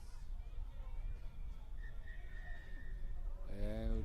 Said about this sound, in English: And we have a whistle for half time, Eti.